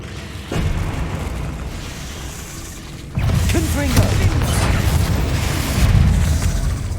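A Confringo spell in the video game Hogwarts Legacy goes off as a loud, booming blast that swells at once and rolls on with a rumbling, crackling tail over dense game ambience.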